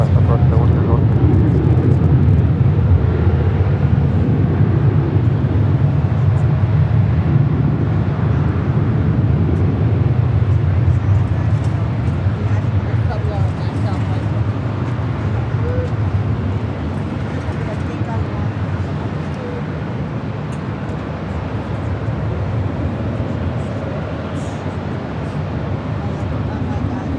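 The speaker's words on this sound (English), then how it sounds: "Mexico Flight 643 heading to Mexico City in the 737 MAX 8." A Boeing 737 MAX 8 jet airliner at LAX, a loud continuous engine roar close by, heavy low rumble slowly easing off over nearly half a minute with no other sounds breaking through.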